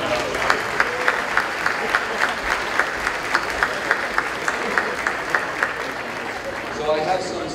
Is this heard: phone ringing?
no